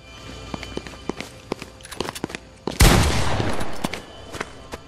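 Fortnite gunfire, close and loud, with a burst of rapid shots in the middle among quick footstep-like clicks, while a player's voice is faintly present.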